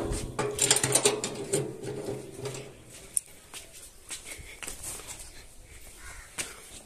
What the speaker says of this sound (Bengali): এটা 110 মডেল আলিশান, দেখতেছেন আলিশানের মেশিন